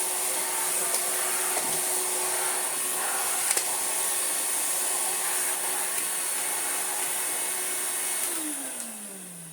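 An Electrolux Z185e vacuum cleaner motor whines steadily with a broad airy roar, then winds down in pitch as it switches off near the end.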